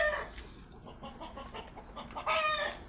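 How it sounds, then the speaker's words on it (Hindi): Three roosters cluck in short, close bursts, ending with a louder, strained crowing call near the end. "ये 3 मुर्गे इतने उतावले हो गए हैं"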